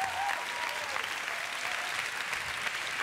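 Audience applause at the end of a televised dance performance, a steady sustained clapping from a crowd, heard fairly close and even in level for the whole stretch.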